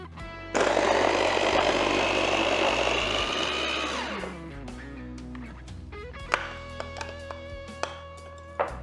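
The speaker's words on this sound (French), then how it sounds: "On va les mixer en rajoutant un petit peu d'eau qui a servi à les faire revenir." Blender pureeing rehydrated ancho chilies with a little of their soaking water, a loud whirring roar that starts abruptly, runs about three and a half seconds, then winds down into quieter clinks and taps.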